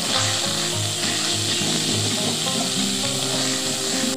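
Ginger, fennel paste and cumin powder are stirred while frying in oil in a pan. Steady sizzling runs under repeated rhythmic scraping strokes, close and fairly loud, with no talk.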